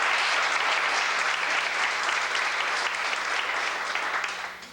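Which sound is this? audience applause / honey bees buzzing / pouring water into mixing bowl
audience applause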